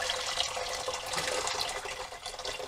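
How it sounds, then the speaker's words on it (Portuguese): Steady rushing stream of hot water poured from a kettle into a red pot, continuous and fairly close, with no voices. "Vou meter água quente da chaleira."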